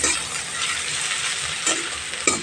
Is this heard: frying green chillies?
yes